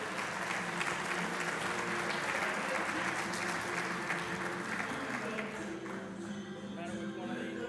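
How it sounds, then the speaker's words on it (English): A live morning-show studio audience applauds the Phoenix Zoo's CEO as he comes up, a steady, dense clapping that runs for several seconds, fading slightly near the end as people start talking beneath it. "How about a big round of applause for Mr. Bert Castro?"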